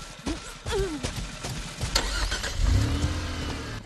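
A car engine revs and accelerates in the Friday the 13th video game, rising and falling mid-pitched engine noise mixed with other game sounds.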